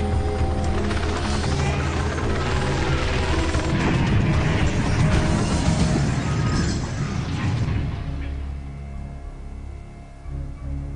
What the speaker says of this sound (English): Woohoo, we crashed our helicopter.